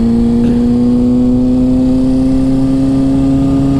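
A 2007 Kawasaki ZX6R Ninja 600 sport bike engine drones steadily while riding, holding a loud, even mid-pitched tone that creeps slightly upward with speed, with wind noise under it.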